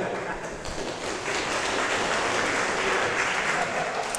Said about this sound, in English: Let's at least give him a round of applause.